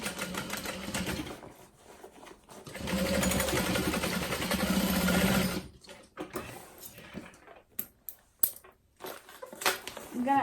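A domestic sewing machine runs a steady burst of stitching along a row near the seam allowance of a modified Boronia Bowler bag, followed by short stop-start whirs and clicks as the fabric is adjusted; loud and close.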